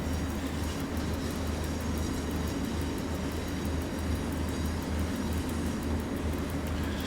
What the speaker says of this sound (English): the S-Bahn is coming in